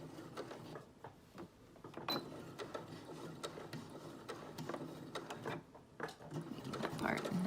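A sewing machine runs continuously while stitching the side seam of a dress, a soft, close mechanical whirr with faint rhythmic ticking.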